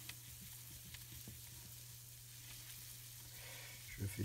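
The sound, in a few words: butter melting and sizzling in pan for roux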